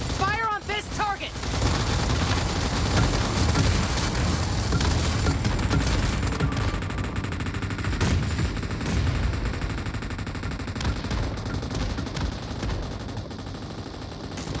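Sustained rapid gunfire and bursts from a PUBG Mobile team deathmatch, with dense overlapping shots, booms and game effects running continuously at loud level under faint game voice lines.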